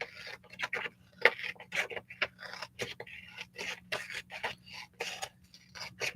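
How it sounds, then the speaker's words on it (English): Repeated crisp snips and rasping slices of scissors cutting through paper, close and quiet, in an uneven steady rhythm over a faint low hum. "I'm just going to cut this with scissors."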